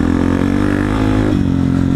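A Honda CRF 250 F off-road motorcycle's engine revs up, a close, loud throaty roar with a rising pitch, then drops slightly as the throttle eases, with a steady engine rumble continuing.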